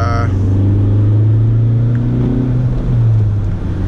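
Honda Civic Type R engine revving through a gear change into third, a loud steady in-cabin drone with a brief dip at the shift and continuous rumble throughout.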